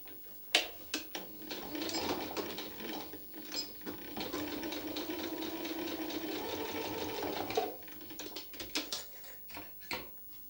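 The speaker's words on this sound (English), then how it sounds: "take this to the sewing machine" A sewing machine stitches a quilt block in one long steady run of rapid mechanical chatter, set between shorter bursts of clicks and handling at the start and end.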